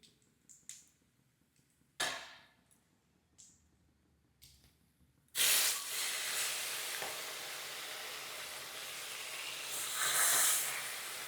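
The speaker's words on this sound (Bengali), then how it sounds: "এবার বাকি মাছগুলো এর মধ্যে আমি দিয়ে দিচ্ছি" Fish pieces drop into hot oil and a loud, steady sizzle erupts, following a few faint clinks and taps in a quiet kitchen, then rises slightly in intensity toward the end.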